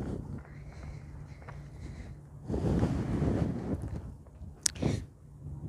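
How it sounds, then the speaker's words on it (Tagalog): Strong wind blows outdoors near the water, buffeting the microphone in rough, uneven gusts that swell in the middle, with a brief sharp knock near the end. "Mahangin talaga sa labas, guys."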